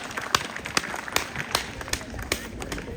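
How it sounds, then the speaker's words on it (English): A crowd at a house auction sale claps after the property is sold, with steady scattered applause mixed with outdoor ambience and some background voices. "Let's give a round of applause."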